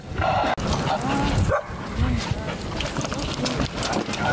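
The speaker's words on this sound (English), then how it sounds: "Matt, how many dogs you got" Several dogs bark and yip close by in quick bursts, overlapping with people talking.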